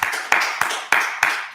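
An audience clapping together in steady unison, about six sharp claps a little under a third of a second apart, close and fairly loud.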